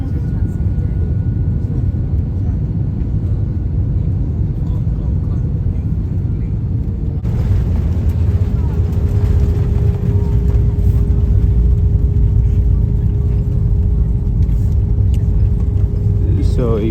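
Airliner landing at Kuala Lumpur, heard from inside the cabin as a steady loud roar of engines and rushing air, shifting after about seven seconds into a deeper rumble as the aircraft rolls out on the runway.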